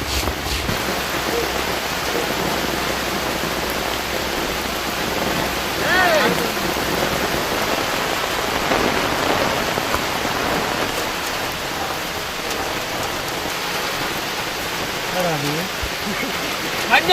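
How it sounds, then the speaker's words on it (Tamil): Heavy rain pours steadily over a village on a rainy day, a dense, continuous hiss of water hitting surfaces that stays fairly loud throughout, with faint voices at times beneath it. "மழை இங்க ஊத்திட்டு இருக்கு"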